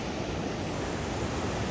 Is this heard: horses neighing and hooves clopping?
no